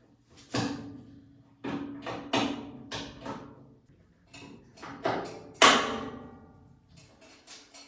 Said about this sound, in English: Let's just pop the first rivet in, and then we can complete the process.